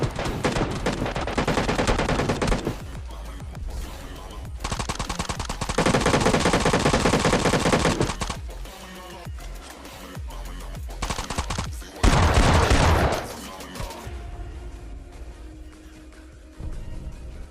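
Loud bursts of automatic gunfire in PUBG Mobile, with several players shooting at once: long rattling volleys broken by short gaps, then a final sharp burst before quieter ambience.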